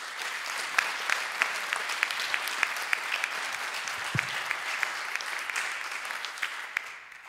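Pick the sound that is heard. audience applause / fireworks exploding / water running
audience applause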